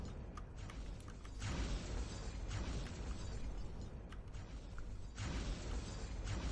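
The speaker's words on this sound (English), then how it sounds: "You hear a lot of explosions." Dense, rumbling explosion noise fills a top-down squad-based game, continuous booming and crackling bursts swelling and dipping across the stretch with no talking.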